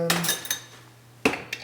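A spoon clinks and scrapes against a bowl while lentil burger mixture is stirred with oil, several sharp metallic taps in quick bursts with short pauses between them.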